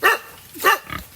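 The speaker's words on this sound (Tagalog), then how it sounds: "Andito ang kanyang mga baboy." Black pigs penned on a farm give three short grunting calls, close and moderately loud, with brief pauses between them and no talk.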